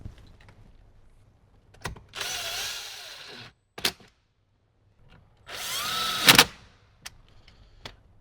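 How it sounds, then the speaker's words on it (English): Power drill runs in two sustained bursts with a rising whine, driving the remaining bolts into a speaker pod on a 2015–2018 Jeep JK Wrangler, with sharp clicks and knocks of handling between the bursts and no talk. "we can go ahead and put in our remaining bolts"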